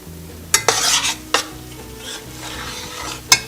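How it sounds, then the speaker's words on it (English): A spoon bangs on a cooking pot while a roux is made for Cajun shrimp stew: a few sharp metallic clanks, close and loud, over stirring and a low sizzle, with no talking. "don't bang on your pot like this with your spoon"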